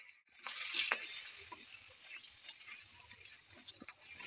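Capsicum sizzles steadily in hot oil in a pan, a bright continuous hiss with occasional soft scrapes and taps of stirring. The sound is close and fairly loud throughout.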